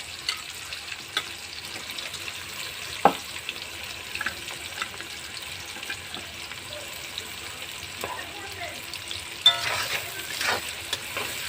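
Chopped onion fries in a pan for a vegetable and fish curry, with a steady soft sizzle throughout and occasional louder pops and stirring clatters close by.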